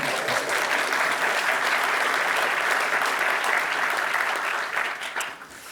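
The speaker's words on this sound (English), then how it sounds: "A little round of applause would be very welcome" Steady audience applause fills a conference hall after an introduction, a full and even wash of clapping that tapers off at the close.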